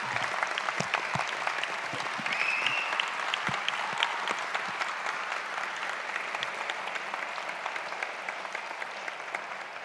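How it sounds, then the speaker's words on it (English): Sustained applause from a large graduation ceremony audience of families and friends, a steady dense wash of clapping that holds at an even level for about ten seconds. "join me in a round of applause to say thank you to those who have helped you reach this important milestone"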